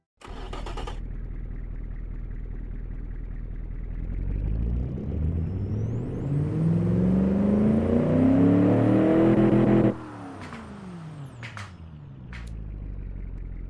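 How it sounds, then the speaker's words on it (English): A V8 engine in a video game idles, then revs up in a rising roar that holds loud for several seconds before cutting back to a low idle. "let's give you a listen of this engine right here"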